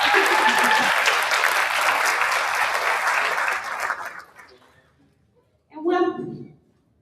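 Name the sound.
audience applause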